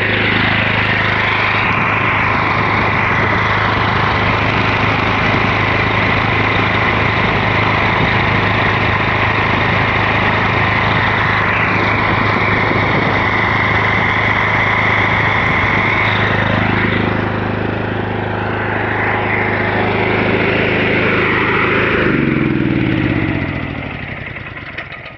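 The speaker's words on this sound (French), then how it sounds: "une fois que le moteur est en régime stationnaire, c'est très acceptable, il n'y a pas de vibration énorme" A KOHLER SDMO 6000 HX generator engine running, a loud steady mechanical drone with a constant buzzing hum that holds near and even, then winds down toward the end.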